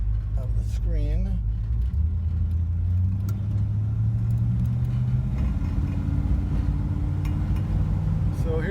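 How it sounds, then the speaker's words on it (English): An old restored 1955 Chevrolet Nomad drives down the road, its steady low engine drone rising slightly in pitch as it pulls along, with people talking over it. "So here we are, driving down the road in the 55 Nomad"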